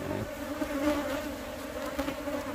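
Worker bees hum steadily inside a hive during pre-honey-season brood inspection, a close, continuous drone with a stable pitch and no voices.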